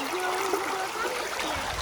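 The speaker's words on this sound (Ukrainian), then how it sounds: "Можна стати посеред річки, я посеред річки." A cold, stony mountain river near Kolomyia flows close by, a steady, full rush of water without a break.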